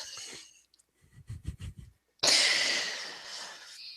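A sudden sneeze bursts out close to the microphone after a few soft snorting breaths and a short silence, the blast loud at first and then trailing off.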